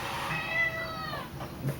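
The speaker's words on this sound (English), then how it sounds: "Look at this cat." A pet cat lets out one drawn-out, wavering meow at moderate distance over a steady room hum, with a faint soft sound at the end.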